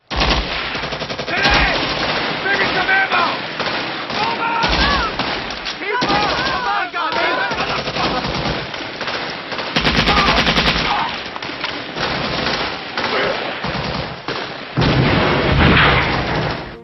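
A loud, dense jungle firefight from a Viet Cong ambush on American troops in the Vietnam War, with sustained machine-gun bursts and rattling volleys running almost nonstop from start to finish.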